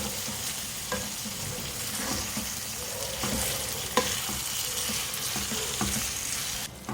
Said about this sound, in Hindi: कीमे को इतना भूनना है कि इसका कलर चेंज हो जाए